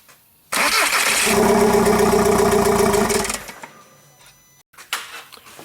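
A common rail TDI diesel engine with a no-start, stalling fault cranks and catches, running loudly and steadily for about two seconds before dying away, followed by faint clatter and quiet movement.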